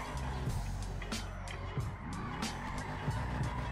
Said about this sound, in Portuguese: achei que eu fosse fazer uma derrapagem lateral bem top